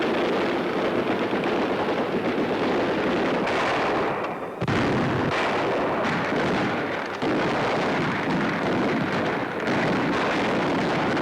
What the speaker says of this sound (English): General Clark watches while his men clean up with gunfire and mortar